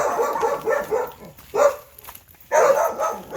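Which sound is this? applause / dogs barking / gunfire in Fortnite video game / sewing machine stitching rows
dogs barking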